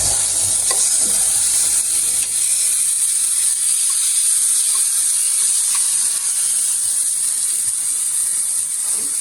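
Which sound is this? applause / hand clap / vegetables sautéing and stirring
vegetables sautéing and stirring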